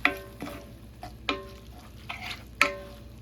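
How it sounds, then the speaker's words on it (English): Ground meat with taco seasoning being stirred and mixed by hand in a pan, giving repeated scraping, squelching strokes at an irregular pace, fairly close and moderately loud, with no voices. "So you just want to mix this real well into your meat"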